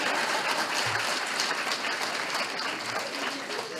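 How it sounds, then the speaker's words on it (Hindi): An audience at a talk claps loudly, a dense, steady burst of many hands that fills the whole stretch, with no voice over it. "इनको जोरदार ताली बजाइए इनके लिए।"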